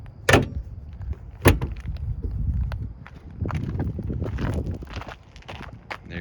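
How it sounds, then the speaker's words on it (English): The hood of a 2019 Cadillac Escalade ESV slammed shut after an oil change: two sharp, loud metallic thuds early on, followed by shuffling and rustling handling noises. "Close your hood."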